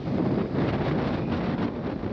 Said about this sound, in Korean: 바람 오우 바람 소리 들으시나요?